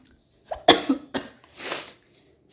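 Several harsh coughs from a person indoors in a cramped room, a quick close burst of three or four followed by a longer rasping one, with no talk.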